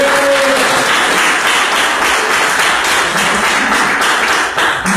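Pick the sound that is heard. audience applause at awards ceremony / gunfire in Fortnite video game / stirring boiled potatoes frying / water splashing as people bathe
audience applause at awards ceremony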